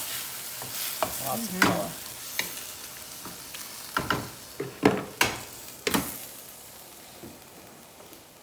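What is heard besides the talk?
stirring crab callaloo in a pot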